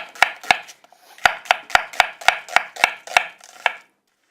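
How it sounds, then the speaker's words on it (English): A knife chops food on a cutting board in a kitchen, about a dozen crisp, evenly spaced thuds at a quick steady rhythm, close and clear with no talking, ending in silence. "Do you want me to slice this one up"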